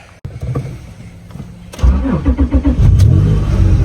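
A turbocharged Acura TL Type S engine cranks briefly, catches, and settles into a loud, rumbling idle with a few throaty pulses, recorded up close.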